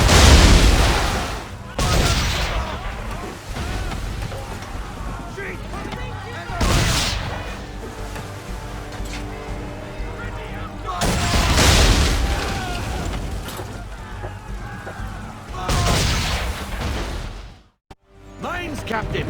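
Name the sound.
cannon fire in a naval battle, from the video game Assassin's Creed III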